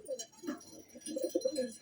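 Competition pigeons coo softly at close range, a few throaty coos grouped together and then a quicker run of them.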